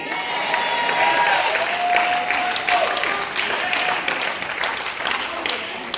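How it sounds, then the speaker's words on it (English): A congregation at a worship service claps and cheers together, a dense, lively burst of applause lasting several seconds, with voices and shouts mixed in. "I got about 20 hand claps on that."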